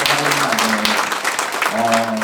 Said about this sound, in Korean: 우리 힘찬 박수로 한번